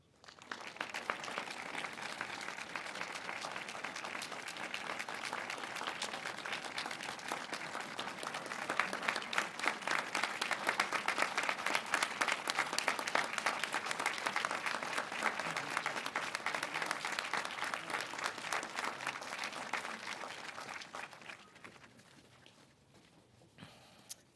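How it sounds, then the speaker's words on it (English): Students and guests at a field house dedication at Cushing Academy give a long, sustained round of applause, a dense patter of many hands that swells midway and fades near the end. "I would like you, with a round of applause, to thank the Watkins family for what they've given us"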